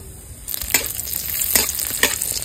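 Cashews fry in hot ghee with cumin, cardamom, cloves and cinnamon, making a loud, bright, continuous sizzle with a few sharper bursts as they are stirred in the pan.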